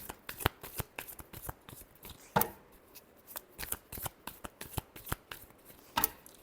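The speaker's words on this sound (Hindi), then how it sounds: "Last shuffle." Tarot cards being shuffled by hand, a brisk run of crisp, close riffles and slaps in an uneven rhythm, with no voices.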